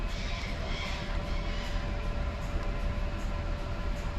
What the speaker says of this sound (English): we're on the tram to go around Christchurch all day